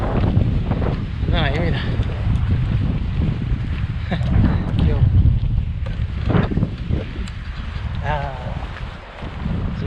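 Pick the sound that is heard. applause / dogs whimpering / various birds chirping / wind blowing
wind blowing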